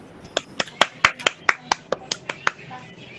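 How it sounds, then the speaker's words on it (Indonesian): A small group in a school guidance session claps on cue, about ten sharp separate claps in a quick uneven rhythm, close and crisp, then a brief quiet tail. "Tepuk tangan untuk kita semua. Tepuk tangan."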